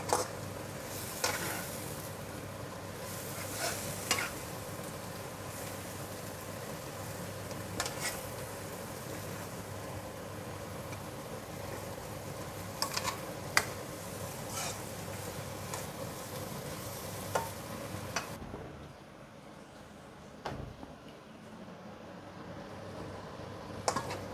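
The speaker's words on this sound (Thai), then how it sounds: "แล้วเราก็ผัดไปเรื่อยๆนะคะ" Rice vermicelli is stir-fried in a pan with shiitake and wood ear mushrooms and sugar, giving a continuous low sizzle with scattered scraping and tapping of a utensil, close and steady before it quiets near the end.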